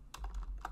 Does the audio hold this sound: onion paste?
no